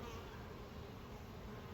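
A steady, faint buzzing drone of a flying bee swarm, continuous and even throughout with no voices.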